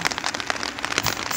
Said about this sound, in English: Beautiful sound of water drops tapping against nature